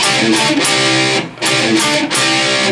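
Heavy distorted electric guitar plays a chunky palm-muted riff in a few bursts with a brief rest between phrases, loud and up front.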